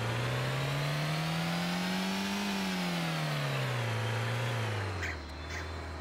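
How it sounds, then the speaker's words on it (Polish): A tractor engine in the Arma video game on the Lingor map drones steadily, its pitch rising then falling as it revs, then settling lower near the end. "To jest Włodka traktor"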